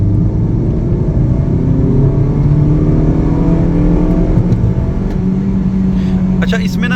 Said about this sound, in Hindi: सो अब हम जाएंगे 40 किलोमीटर पर आवर पे और फिर उससे हम गाड़ी को लॉन्च करेंगे।